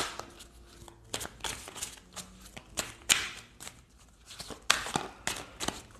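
Oracle cards are shuffled close by in quick bursts of papery riffles and soft slaps, with short pauses between runs.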